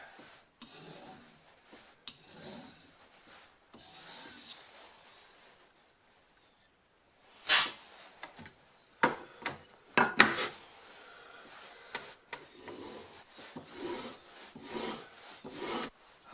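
Chisel edges are honed at a 25-degree angle on a sharpening stone, with quiet scattered rubbing strokes at first and then a run of sharper, louder rasping passes.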